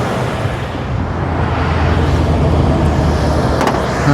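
An abandoned limousine's engine idles close by with a steady, rough low rumble that is constant throughout, with a brief mechanical tick near the end.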